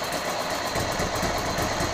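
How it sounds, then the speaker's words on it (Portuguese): A Ducati Cagiva Elefant 900 motorcycle engine idles close by with a steady, slightly uneven low rumble and a busy mechanical clatter. "Aí já tá na marcha lenta assim,"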